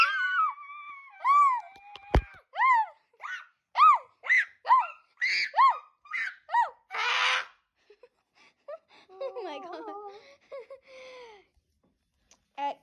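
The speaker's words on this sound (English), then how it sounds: "Everyone scream in 3, 2, 1." A group of children scream together indoors in a string of short, high, wavering shrieks and yelps, each burst separate and loud, with a brief sharp knock early on and quieter squeals trailing off near the end.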